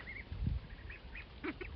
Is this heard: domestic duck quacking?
yes